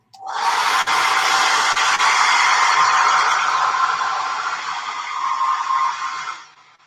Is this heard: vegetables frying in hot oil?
no